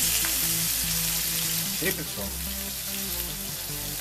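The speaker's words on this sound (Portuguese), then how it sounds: "E agora vamos começar a colocar a nossa rabada para selar." Oxtail pieces sear in a thin film of hot oil in a pan, giving a loud, steady sizzle and crackle, with a brief spoken interjection partway through.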